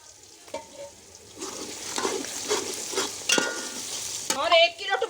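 Garlic, ginger and green chili paste sizzling in hot ghee for chicken biryani, a hiss that swells as the paste goes in, with a spoon stirring and clinking against the pot, close and alone.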